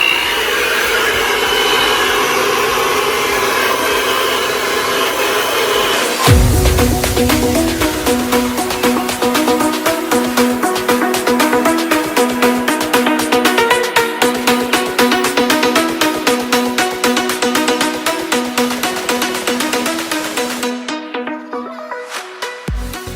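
Hair dryer on medium heat runs continuously at close range, a steady airy whir with a slight shift in tone partway through before cutting off near the end.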